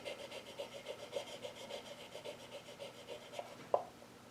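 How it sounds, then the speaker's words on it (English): Steady scraping rub of a tool edge over cedar wood to press ink onto the grain, a quiet rasping stroke repeated in a loose rhythm, close up and alone, with one sharper scrape near the end. "kind of rub it so it forces that ink to go onto the wood"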